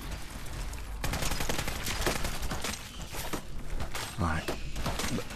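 A gun fires at Mirelurks in Fallout 4, rattling off quick repeated shots in bursts while a voice talks over the combat noise.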